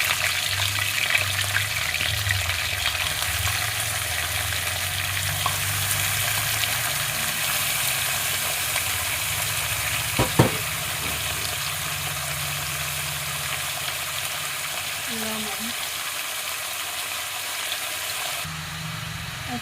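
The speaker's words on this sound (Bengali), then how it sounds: "ওই তেলের মধ্যেই চিকেনগুলোকে দিয়ে দেবো এক এক করে।" Chicken pieces frying in hot oil give a steady broadband sizzle that holds throughout, with a brief louder crackle midway and no talk.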